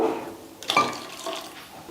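Water splashes as it is poured into freshly ground Madurai-style watery chutney, a brief close pour with a sharp splash in the middle, alone without talk.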